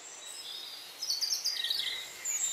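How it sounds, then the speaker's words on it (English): Faint, scattered bird calls from an English dawn chorus before sunrise: thin chirps and song phrases at a distance over a quiet, soft background, growing a little busier partway through. "The dawn chorus in England begins about an hour before sunrise."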